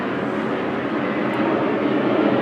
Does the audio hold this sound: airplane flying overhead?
yes